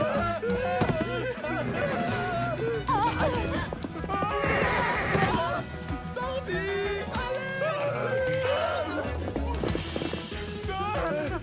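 A small horse neighs and whinnies loudly amid busy cartoon music and sound effects, its cries rising above the clutter near the middle.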